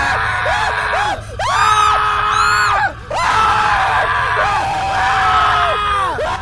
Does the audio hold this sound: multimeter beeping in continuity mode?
no